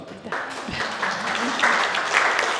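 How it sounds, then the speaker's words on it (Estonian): An audience applauds at a public viewing for an architecture competition for a school and community building in Estonia, with steady clapping rising after a brief spoken cue and continuing to the end. "Suur aplaus."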